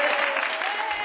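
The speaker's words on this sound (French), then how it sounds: "Applaudissez les artistes" A short burst of steady audience applause for teenage circus performers at a youth circus show, continuous and fairly full for about a second.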